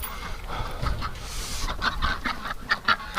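Farm ducks in cold, windy winter weather give a few quacking calls near the end, over steady wind noise and low rumbling.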